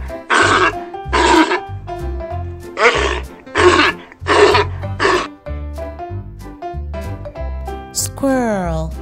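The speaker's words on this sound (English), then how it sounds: "Sea lions." Several loud, rough grunting barks of sea lions come in a rhythmic series over background music, followed by a sweeping whistle-like tone.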